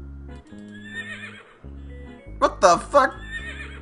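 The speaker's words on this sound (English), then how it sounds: "There's a horse in there!" A horse neighs in a flash video game, a loud wavering whinny in several rising bursts following a man's startled exclamation, over game music tones.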